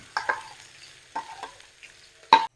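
About 200 grams of onions in a pan for tawa qeema: a few scraping stirs with soft sizzling between them, ending in a louder stir, close and with no talking.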